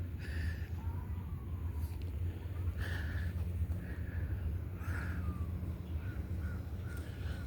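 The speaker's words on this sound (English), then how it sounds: "If you can hear the birds and other wildlife." Crows cawing repeatedly at a distance over steady low outdoor rumble, with scattered other bird calls in the open air of Wolf Lake Park, Florida.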